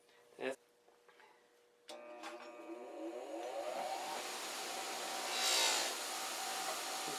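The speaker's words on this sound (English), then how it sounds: "Okay, so we're just going to polish this up now." Bench buffing wheel polishing a sanded cast aluminum hinge for a Boler (Scamp) camper, a steady whirring motor hum with a rising rub of metal against the wheel, preceded by a few brief knocks.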